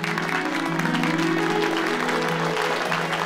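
Clapping crowd at a Dussehra celebration, a steady dense wash of applause filling the whole stretch with a faint tonal hum underneath.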